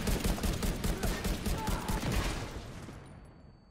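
Rapid gunfire from a firearm in The Division 2, a dense steady burst of shots that runs without pause before tapering off into fading echoes.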